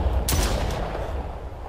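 The defender gun fires in the Brookhaven Experiment VR shooter, one sharp loud blast with a booming tail and a second lighter crack just after, no voice over it.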